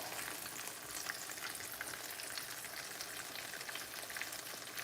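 Breaded green tomatoes frying in a pan give off a constant, dense sizzle with fine crackling, steady and fairly quiet, without voices.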